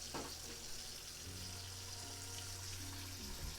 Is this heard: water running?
yes